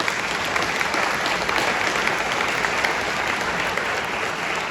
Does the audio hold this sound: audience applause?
yes